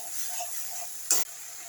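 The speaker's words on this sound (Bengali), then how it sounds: "মশলাটা কষিয়ে নিই, তারপর আলুগুলো দেওয়ার সময় জলটা দিয়ে দেবো।" Spice paste sautéing in oil for a vegetarian potato curry gives a steady close sizzle, with one short, louder scrape of stirring about two-thirds of the way through.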